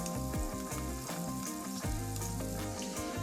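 Food sizzles and crackles continuously in hot oil in a frying pan while cooking a vegetable cutlet dish, a loud steady spitting hiss with occasional pops and light stirring, and no voices.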